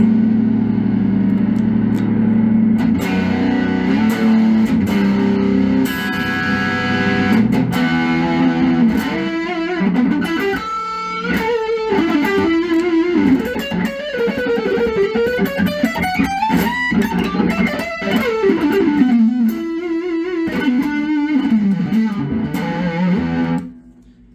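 A heavily distorted electric guitar through the distortion channel of a Soldano SLO100-style tube amp plays loud, sustained chords and bending lead lines, thick and saturated, continuous for about twenty seconds before cutting off.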